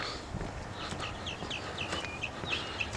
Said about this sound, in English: Only some birds singing in the background.